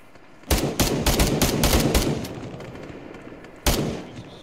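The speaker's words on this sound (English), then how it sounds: "God, that MG is so inaccurate" Machine gun fire in the military shooter game Arma 3 Antistasi: a sharp opening shot, then a rapid rattling burst lasting over a second, a short pause, and one more loud shot, with no talk over it.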